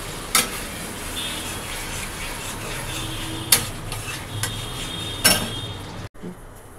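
A spoon scrapes and clinks against a pan as water and cornflour go into a chili momo sauce, with a faint low sizzle beneath and a few sharp metallic knocks spaced seconds apart.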